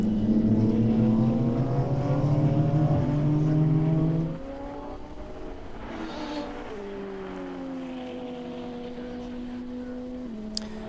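Touring race cars, a KTM among them, racing at Balaton Park during an endurance race, engines droning loud and sustained, then easing off after a few seconds into a steadier, quieter drone as gears shift.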